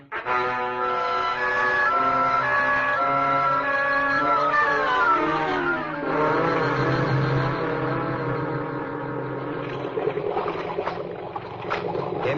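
A car's engine drones steadily throughout, its pitch sliding and shifting as it drives, with a faint clatter toward the end.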